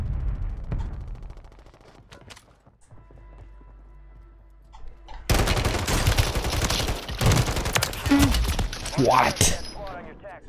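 Gunfire in Call of Duty: Warzone on the Fortune's Keep map, with dense loud bursts of shots crowding the second half over game ambience, and a player talking briefly.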